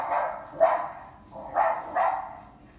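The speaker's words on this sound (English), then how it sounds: "Okay, here's Jurassic Bark." A smart speaker plays a dog-barking sound effect: four short, moderately loud barks in an uneven rhythm, sounding slightly thin and indoors, with brief quiet gaps between them.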